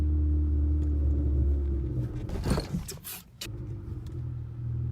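A manual car's engine rumbles low and steady nearby, then surges and drops as the driver works the clutch to shift into second gear, with a brief dip before the drone settles again.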